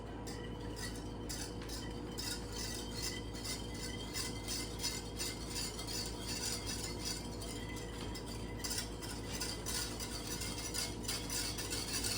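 Whisk beating rapidly inside a bowl, a quick, even run of metallic clinks and scrapes that carries on for the whole stretch at close range, fairly quiet, with no talk.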